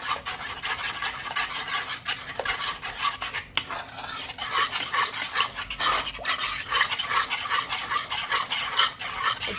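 Homemade sculpture paste being stirred and diluted in an old metal kadai, steady rhythmic scraping and rubbing of a spoon against the pan, close and continuous with no talk.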